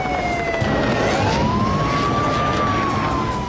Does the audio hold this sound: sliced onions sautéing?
no